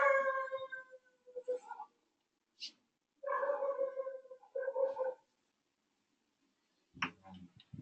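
A neighbour's dog barks and howls in several drawn-out, tonal bursts separated by silent gaps, with a sharper burst near the end, heard at a moderate distance with no talk over it.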